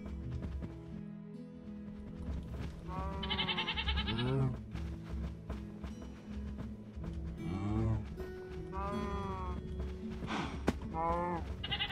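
A goat in the Minecraft video game gives several wavering bleats spread across the stretch, moderately loud, over a layer of game ambience.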